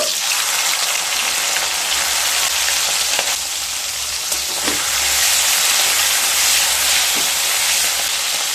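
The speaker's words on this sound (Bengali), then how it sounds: "তেলটা গরম হয়ে গেলে লবণ হলুদ দিয়ে মেখে রাখা 150 গ্রাম চিংড়ি মাছ ভেজে নেব।" In a kadai of hot mustard oil, 150 grams of prawns coated with salt and turmeric fry with a loud, continuous sizzle and hiss. Occasional soft stirring knocks sit beneath it, and no one speaks.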